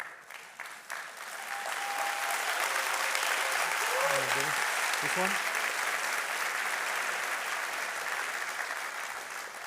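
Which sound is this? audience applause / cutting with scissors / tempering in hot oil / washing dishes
audience applause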